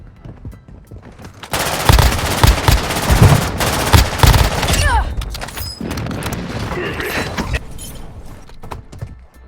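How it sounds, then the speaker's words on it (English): In the Warzone Mobile game an enemy precision airstrike hits amid gunfire. Quiet at first, then a sudden loud barrage of rapid shots and booming impacts that keeps going through the rest of the clip. "Enemy precision airstrike. Find cover."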